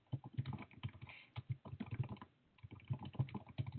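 Fast, close typing on a computer keyboard, a steady patter of key clicks with a brief pause before resuming.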